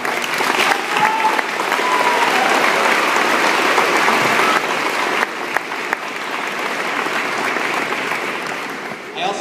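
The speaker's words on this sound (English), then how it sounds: "So I just want to give them a round of applause." Sustained, loud applause from a large audience at a 2017 high school commencement, steady dense clapping filling the whole stretch with some crowd noise and faint voices underneath.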